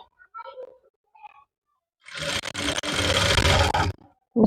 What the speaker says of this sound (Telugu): దీని పక్కనే ఇది కూడా సింగిల్ పాదంతో స్టిచ్ చేసుకోవాలి